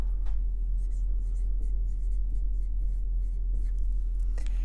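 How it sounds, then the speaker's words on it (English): Chalk or marker scratches across a board in a math lecture, with short strokes and taps in an irregular rhythm over a low steady hum, and no talking. "Maybe I'll even write that."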